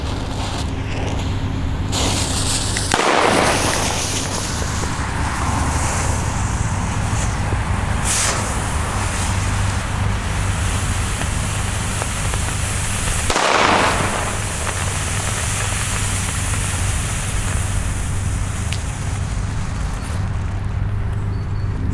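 Fireworks and firecrackers burst on New Year's Eve, a steady crackling hiss with loud sharp reports near 3 and 13 seconds, plus a few softer pops, no talk.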